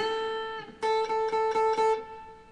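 Electric guitar in a blues-rock lick: a sustained note rings, then a string is bent up and picked several times in quick succession, clear and moderately loud with no talking.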